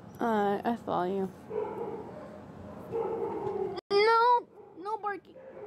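Dogs in a home barking and yipping in several close, loud bursts with whiny tones, separated by short pauses and a faint background hum.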